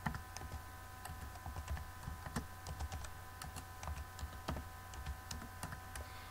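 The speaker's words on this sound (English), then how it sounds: "We type the email address that we want to send it to." Rapid typing on a computer keyboard as an email address is entered, with irregular clusters of crisp key clicks over a steady low hum.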